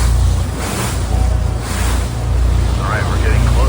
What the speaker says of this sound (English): Here we are coming up on the Horseshoe Falls at Niagara Falls.